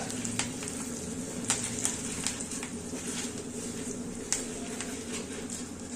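Asafoetida frying in hot oil with cumin and fenugreek powder, a steady close sizzle with a few sharp ticks and pops.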